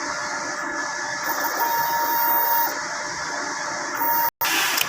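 A printer runs in a busy print shop, giving off a steady mechanical whir with thin high tones. The sound cuts out briefly near the end.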